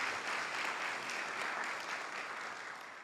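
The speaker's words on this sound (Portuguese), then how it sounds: "Uma salva de palmas para ele." A ceremony audience at a Brazilian state legislature's Medalha do Mérito Farroupilha event applauds a deputy, a soft, distant wash of many hands clapping steadily, tapering toward the end.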